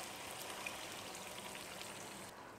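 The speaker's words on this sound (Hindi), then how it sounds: "अब हम इसमें पानी डालेंगे 1/4 कप।" Water poured into a cooking pan of browned chicken achar gosht while cooking, a faint steady splashing trickle that continues evenly throughout, with no talking.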